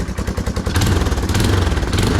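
A repaired Yamaha Timberwolf 250 ATV engine runs close and loud, chugging in a fast regular pulse that briefly rises in a rev before settling back into a steady idle.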